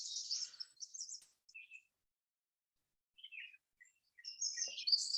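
Birds chirp and sing in a spring forest on a warm, breezy morning, with bright bursts of song at the start and end and a quiet pause in between.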